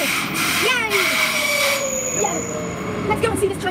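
A train rolls in with a rumbling hum and high squealing wheels, the sound steady and fairly close, with no clear talking.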